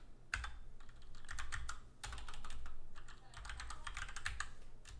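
Rapid bursts of typing on a computer keyboard during a database setup session, close and fairly loud, with clustered key clicks separated by short pauses and a low background hum.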